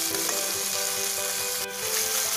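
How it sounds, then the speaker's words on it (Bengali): Bacchi fish and capsicum frying in a pan, a dense, even sizzle that stays close and loud throughout with no voices. "একটু ভাজা ভাজা হবে দুটো।"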